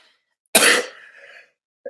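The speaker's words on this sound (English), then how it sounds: "Sorry for my coughing. My throat's dry." A person with a dry throat gives one sharp, loud cough that trails off into a raspy breath. Silence comes before it, and a brief sound follows.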